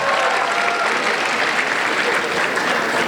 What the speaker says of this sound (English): Could we please get a round of applause for all of our contestants?